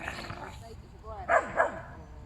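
A small dog gives two quick, sharp yaps close by, one right after the other, following a stretch of soft background voices.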